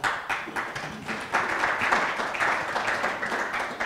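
Audience applause at a constitutional dialogue event in Karlsruhe, dense continuous clapping from a sizeable crowd, fairly loud and sustained for several seconds without speech.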